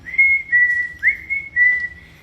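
Someone whistles a tune in clear, sustained notes, a few phrases with brief pauses, close and fairly loud.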